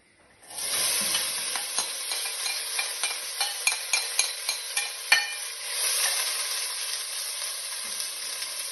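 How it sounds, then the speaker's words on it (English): Food dropped into hot oil in a pan, bursting into a loud, steady sizzle with quick crackles and pops. A few scrapes and taps from a utensil come through early on, and no voice is heard. "the oil is nice and hot in the pan, so we're ready to go, and they'll go straight into the pan"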